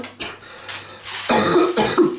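A cat coughs in a few hoarse, breathy bursts, close by, the later hacks louder and rougher than the first faint ones.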